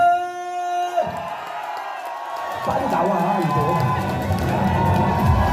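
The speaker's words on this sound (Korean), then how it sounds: "천이 나오면서 박수하고 함성!" Crowd at a first-birthday party for a café applauding and cheering loudly as someone makes an entrance; the cheering swells suddenly and stays dense and close, with a voice speaking briefly just before it.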